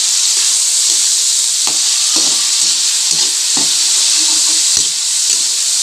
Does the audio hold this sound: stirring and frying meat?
yes